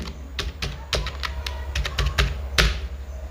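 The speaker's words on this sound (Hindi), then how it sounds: "तो यही पासवर्ड हम यहाँ पर टाइप कर देते हैं" Someone types a password on a computer keyboard, about a dozen crisp key clicks and thunks at an uneven pace, close up with a low background hum and no talking.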